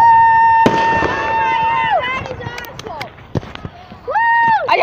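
Fourth of July fireworks shot off nearby: sharp bangs with several whistling rockets that rise and fall in pitch, overlapping in quick succession.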